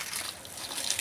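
Water sprayed from a hose onto garden trees, hibiscus and jasmine plants during hot summer weather makes a steady, close hiss that runs without a break for about a second. No voices can be heard over it.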